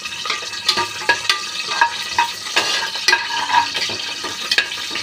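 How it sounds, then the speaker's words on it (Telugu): Whole biryani spices, cinnamon and cloves among them, fry in a hot pan for vegetable biryani with meal makers, a steady sizzle punctuated by repeated sharp knocks of a spoon stirring against the pan. "అవి వేసుకొని మనం బాగా ఫ్రై చేసుకుందాము."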